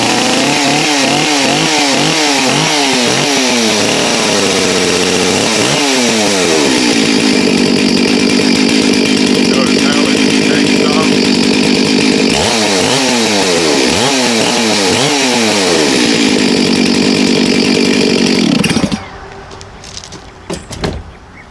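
A Stihl MS361 chainsaw is pulled over on half choke, several loud rhythmic cranking bursts, then it fires and roars at a steady high idle close by before cutting off abruptly near the end.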